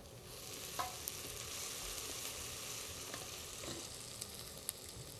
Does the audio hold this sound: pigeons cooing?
no